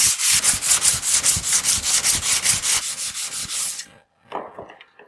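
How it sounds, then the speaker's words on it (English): 100 grit sandpaper rubbed back and forth along an old handsaw blade in steady rhythmic strokes, about a dozen close scratchy passes before stopping, then a few lighter scrapes. "I've got a piece of 100 grit sandpaper to start with"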